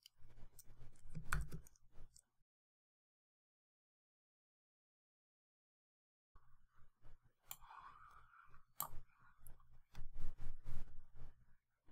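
Bursts of quick, light keyboard clicks, close and fairly soft, separated by a long pause of silence before another run of irregular typing.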